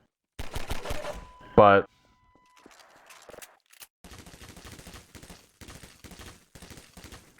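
Combine turret in the Half-Life 2 Hammer editor fires a short, loud burst of rapid shots, then a mechanical whir, with someone talking before and after.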